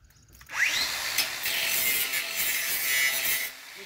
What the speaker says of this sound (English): now I'm gonna touch it up with the grinder